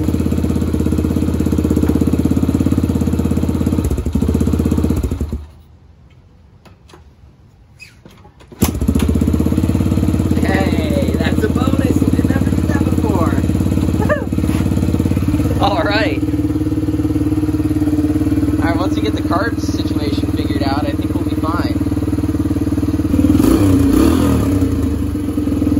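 A Yamaha TTR-125L dirt bike engine runs loud and close, cuts out for a few seconds, then restarts and settles into a steady idle while a person talks over it.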